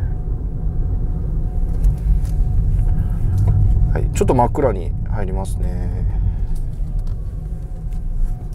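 Steady low road rumble and tyre noise inside a Toyota Prius PHV facelift model on a test drive, droning throughout beneath someone talking.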